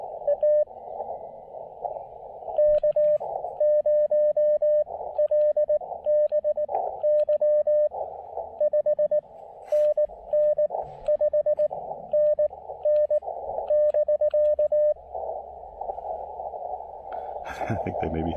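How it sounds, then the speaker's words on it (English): Morse code keyer tones on an amateur radio, with a faulty keyer during a park activation: a steady pitched tone keyed in uneven bursts and long runs over a hissy band, ending in a burst of noise. "I think they may be having a little bit of a keyer problem."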